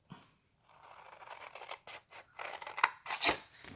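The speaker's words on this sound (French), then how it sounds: "Je coupe ici." Paper being snipped with scissors, a few crisp, close cutting strokes rising to sharper final snips.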